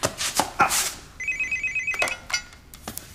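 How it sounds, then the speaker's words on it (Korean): A telephone rings indoors in a Korean TV drama scene: a clear electronic warble repeating in a quick pulsed burst, with some knocking and chopping-like clatter around it and no talk. "어, 전화."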